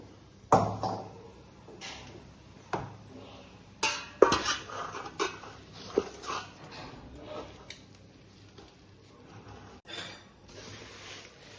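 A spoon scrapes and clinks inside a vessel as grated jaggery is mixed into spices for a mango jaggery pickle, with irregular sharp taps and scraping strokes heard up close and no talking.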